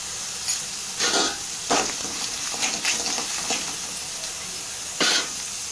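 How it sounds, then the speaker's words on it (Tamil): Masala paste with salt and garam masala sautéing in a pan for banana flower cutlets, a soft steady sizzle broken by several short scraping stirs of a spatula, close and alone without talk. "பச்சை வாடை போகிற அளவுக்கு வதக்கணும்"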